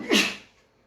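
A single sharp sneeze during a student workshop in Leipzig. It is close and loud, peaks quickly, then fades into a quiet room with no talking.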